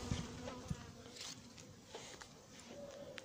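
A honey bee circles a beekeeper during the release of vacuumed-up bees, its faint, wavering buzz drifting near and away against a noisy outdoor background.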